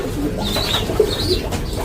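Pigeons in a loft, kept for vaccination and shipping, give a few soft, low coos close by against a steady background hum, with no talking.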